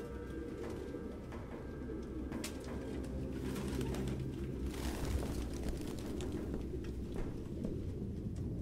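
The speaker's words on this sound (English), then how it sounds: "No human could live with all these fucking pigeons." Pigeons coo steadily and close by in a Detroit: Become Human game scene, the soft layered calls continuing throughout over a low background murmur, with no talk.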